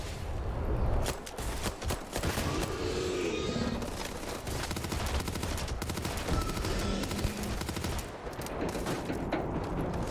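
An SMG in Starfield fires in long, dense bursts of rapid shots that fill nearly the whole stretch, loud and close, with brief gaps between strings of fire.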